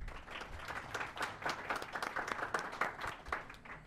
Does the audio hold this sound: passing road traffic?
no